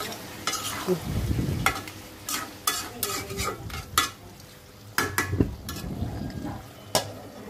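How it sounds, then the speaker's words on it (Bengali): Tengra fish sautéing in a pan, with a spoon or spatula scraping and stirring in sharp repeated strokes over a low steady sizzle of frying, close and clear with no talk. "ট্যাংরা মাছটাও ভালো করে কষাবো"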